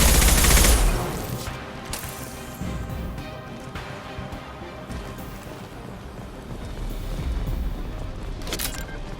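Gunfire in Mass Effect 2 opens with a loud, close high-impact blast, followed by scattered fainter shots and impacts echoing through a busy combat scene.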